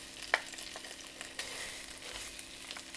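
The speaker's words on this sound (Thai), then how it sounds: "นี่ค่ะผัดพริกแกงนะคะ" Red curry paste stir-fried in a hot pan, a quiet steady sizzle broken by a few sharp spatula clacks and scrapes, no voices.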